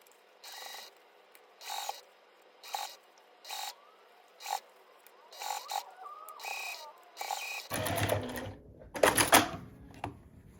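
A sewing machine stitches through fleece and batting around the edge of a mini tote bag ornament in short, quiet mechanical bursts about once a second, becoming denser and louder near the end.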